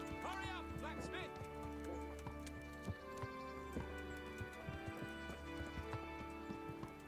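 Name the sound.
horse trotting in Kingdom Come: Deliverance video game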